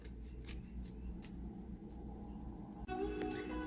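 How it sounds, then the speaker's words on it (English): Scissors snip through a piece of paper for a handmade papercraft project, a few soft, close cutting strokes over a steady low background hum, ending in a brighter rustle of paper. "I'll go ahead and cut it off as well. So let me cut this"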